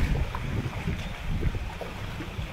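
Strong wind roars across a boat on open water near a bridge: a steady, loud, broadband rush with gusty swells and low rumbling buffets throughout, and no voices.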